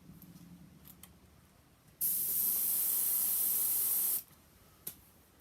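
An airbrush sprays in one steady, loud hiss lasting about two seconds, with quiet room sound before and after and a short click near the end.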